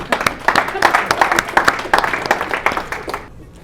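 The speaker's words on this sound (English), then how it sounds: "Give him a round of applause." An audience at a talk claps in a dense, close round of applause with some voices mixed in, then it tapers off abruptly.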